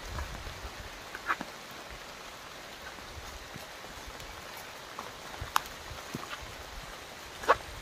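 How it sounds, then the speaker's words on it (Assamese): Steady rain falls over an outdoor flower farm, a soft, even wash of patter with a few faint, brief drip-like clicks and no voices. "পুৰা বৰষুণ দি আছে"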